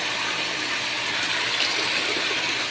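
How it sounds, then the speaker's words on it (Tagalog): A booster water pump drives a strong, steady gush of water at high pressure, a loud and continuous hiss-roar with no break across the whole stretch. "napakalakas po ng pressure mga kapintor. Booster water pump."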